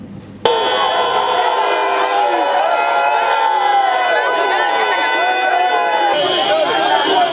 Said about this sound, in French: Mahaman Ousmane a été dignement accueilli par la population de Niamey en scandant des slogans favorables au changement